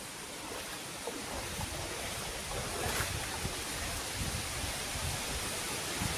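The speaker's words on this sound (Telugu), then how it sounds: "వచ్చేసాం మన వాటర్ ఫాల్కి" Penchalakona waterfall roaring as a dense, steady rush of falling water, loud and unbroken throughout with no voices.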